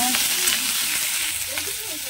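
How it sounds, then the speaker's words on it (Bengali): Green mango, cauliflower and potato pieces fry loudly in a pan, a dense close-up sizzle with faint stirring scrapes over a brief moment and no speech. "এবার একটু ভালো করে ভেজে নিব"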